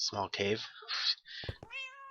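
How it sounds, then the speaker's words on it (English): Cats in Minecraft meow near a small cave, a couple of clear, tonal meows following a man's brief speech, close and fairly loud. "Apparently I'm surrounded by cats."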